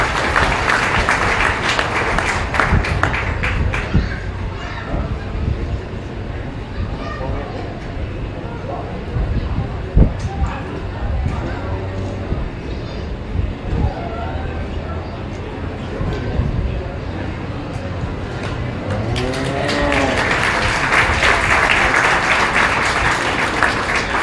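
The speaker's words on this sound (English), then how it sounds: "let's go ahead and give these kids a round of applause" An audience at a county fair cattle show claps in sustained applause at the start and again near the end, with someone talking over a loudspeaker between the bursts.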